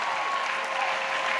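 A congregation at a church service claps for Jesus Christ, a steady, dense wash of applause held at an even level throughout, with no voices over it.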